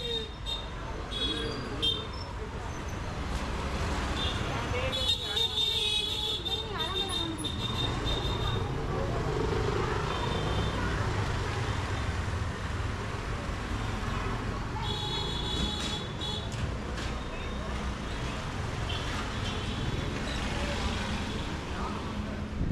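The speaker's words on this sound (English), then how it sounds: "Until the honking and sounds of a modern city grew" Busy road traffic in the old city of Jodhpur, India, with motorcycles and tuk-tuks, rumbles steadily with engines passing close by and occasional horn blasts, while people talk nearby.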